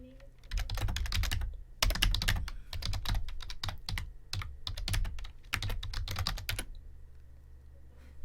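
Fingers type quickly on a computer keyboard in close, crisp bursts of clicking keystrokes, broken by short pauses before the typing stops near the end.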